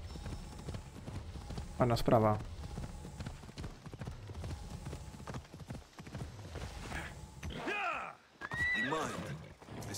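A horse in the Assassin's Creed Odyssey video game clip-clops along and gives two loud, close whinnies, one early and one near the end. Someone speaks briefly over it.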